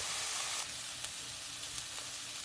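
Minced garlic sizzles in a pot of softened onions and celery for a beef stew, a steady, quiet hiss of frying with faint stirring ticks and no voices.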